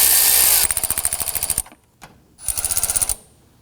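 A power tool, likely an impact driver, snugs down the battery bracket on a Nissan Murano in two close, loud bursts of rapid hammering ratchet with a short pause between them.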